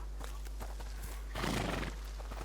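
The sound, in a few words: horses neighing and snorting in the video game A Plague Tale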